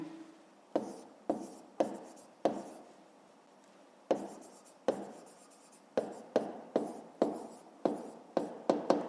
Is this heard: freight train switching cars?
no